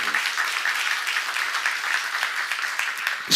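Church congregation applauding during a sermon, a steady moderate wash of many hands clapping together that runs throughout with no talk over it.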